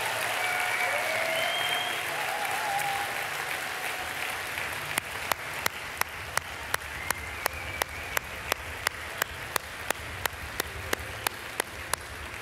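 Warm applause from a conference audience greeting evangelist Sebastian Stakset, a steady wash of clapping that settles into slow, rhythmic unison claps in its second half.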